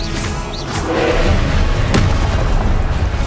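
A spell is cast in the Hogwarts Legacy video game, a dense magical whoosh with a booming impact and a bright crackling burst partway through, loud and without speech.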